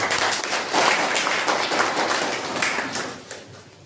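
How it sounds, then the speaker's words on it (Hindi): Students at a voter awareness event in Madhepura, Bihar give a loud, sustained round of applause, dense clapping filling the hall without any voices on top. "इसलिए अपने लिए भी एक बार जोरदार तालियां।"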